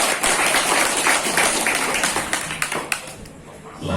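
A crowd at an outdoor neighbourhood gathering beside a railway line bursts into dense, steady applause and clapping that tapers off after about three seconds.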